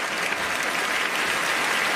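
Comedy club audience at a stand-up show applauding, a dense steady wash of many hands clapping close and loud throughout, with no talk.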